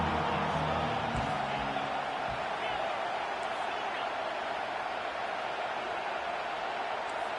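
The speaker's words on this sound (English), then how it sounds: "Here comes this home crowd as the defense tries to get off the field on 3rd down." A home crowd roars in a College Football 25 game, a dense, steady stadium rumble that runs unbroken through the moment, with faint voice-like sound mixed in.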